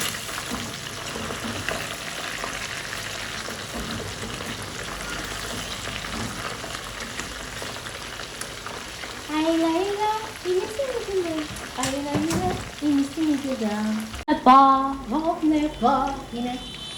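Beef fries in a pan for stew with a continuous sizzle and occasional stirring, and a voice talks over the cooking in the later half.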